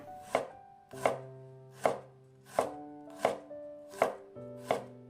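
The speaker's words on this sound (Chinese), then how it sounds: "几瓣大蒜也给它切成薄片" Seven crisp knife strikes chop evenly through garlic cloves on a cutting board at a steady, unhurried pace, each thin slice landing close and clear with no voices.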